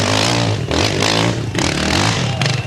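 A large racing motorcycle, one of the bigger bikes at the 1995 Rachau hill climb in Austria, roars loudly and steadily at close range, its engine note rising and dipping with shifts and revving hard throughout.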